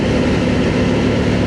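Steady, loud drone of a Honda 750 Transalp motorcycle engine holding about 4,100 revs in fourth gear at roughly 88 km/h, with a constant low rumble and wind-blown roar and no break throughout.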